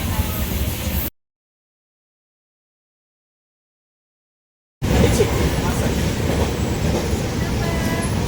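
A loud, steady rumble of a train running on rails, broken by a sudden gap of silence before the rumble resumes.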